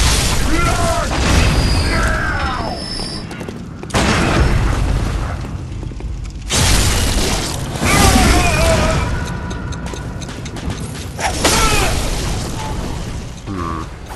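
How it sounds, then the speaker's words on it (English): Time bombs exploding in Bloodborne, several heavy booming blasts spaced a few seconds apart, each with a loud rumbling tail, with a voice talking over them. "They got, like, time bombs."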